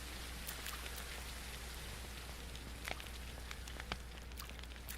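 Steady rain falls in the survival video game Primal Survival, a dense continuous hiss of drops with scattered louder patters, with no voices.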